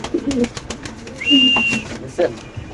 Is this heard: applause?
no